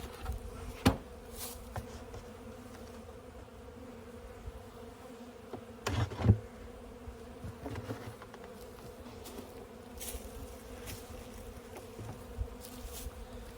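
Honeybees in a condensing-style hive fed on sugar bricks give a steady, low, moderate hum throughout, with a few brief louder buzzes of individual bees passing close.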